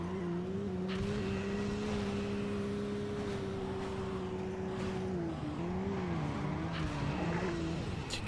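A car races in the video game Midnight Club 2, a steady, droning engine tone that wavers as the car slides about, with faint tyre squeal and scattered crashes underneath, moderately quiet throughout.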